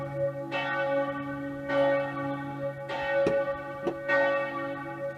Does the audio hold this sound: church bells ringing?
yes